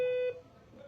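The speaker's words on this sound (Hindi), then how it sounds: "ये हमारे बीप की आवाज आ गई तो हमारी कॉल वहां पे फॉरवर्ड हो गई" A short steady beep from an EPBX office telephone system confirms call forwarding, sounding once clearly and cutting off after about a third of a second, followed by quiet line hiss.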